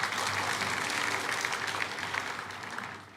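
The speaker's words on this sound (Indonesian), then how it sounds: "Kasih tepuk tangan untuk kemuliaan nama Tuhan." Steady applause from a church congregation fills the room, loud and continuous at first, then tapering off slightly toward the end.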